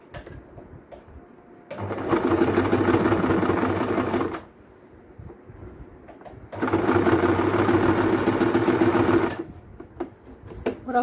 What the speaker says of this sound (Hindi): और अब हम इसको सिलाई लगा देंगे।